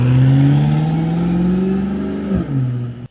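A BMW F10 M5 with an Akrapovic Evolution exhaust revs hard, giving a loud, close, rising engine note that holds, then dips sharply and settles briefly before cutting off.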